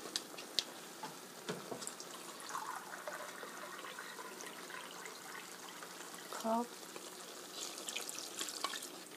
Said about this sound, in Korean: 물을 요 김치가 잠길 정도로 자작하게 한 컵,